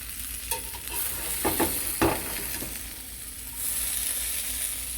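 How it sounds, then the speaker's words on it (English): Potatoes frying in a pan give a steady close sizzle, with a few scraping stirs in the middle and the hiss rising again near the end, no voices. "Fry them up."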